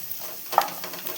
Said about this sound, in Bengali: এবার একটু ভাজা ভাজা করে নেবো ম্যাগিটা।